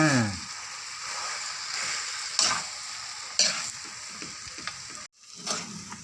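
Sticky rice biko is stirred in a pan over steady sizzling, with occasional sharp scrapes and knocks of the spoon against the pan standing out above the continuous hiss.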